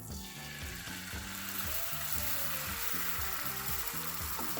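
Egg frying in avocado oil in a hot skillet, with a steady sizzle that runs throughout over a backdrop of background music.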